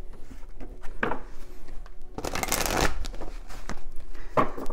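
Oracle cards being shuffled up close in loud, papery bursts of riffling and sliding, with one longer sustained shuffle in the middle and shorter bursts before and after.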